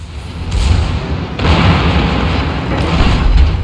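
Secondary guns of a Tier 9 German battleship firing in World of Warships, a series of heavy, booming thuds rolling under a continuous loud rumble of battle noise, with no speech.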